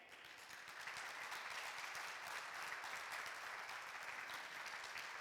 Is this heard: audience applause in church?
yes